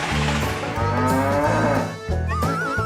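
Dairy cows on a biogas farm mooing, several long, loud, drawn-out calls from close by overlapping one another, with no talking.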